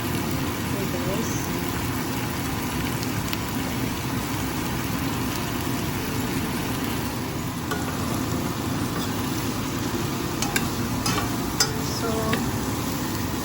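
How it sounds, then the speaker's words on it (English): Shrimp sauté in a pan after onions and garlic for coconut-milk shrimp with squash and string beans, making a steady low sizzle and occasional utensil clinks while a person talks over it. "you can saute now the shrimp or gisa"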